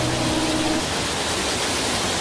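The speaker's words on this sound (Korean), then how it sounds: "폭포수가 쏟아집니다." A valley waterfall at a resort area pours down in full flow, a constant, dense roar of rushing water heard up close, loud and unbroken throughout.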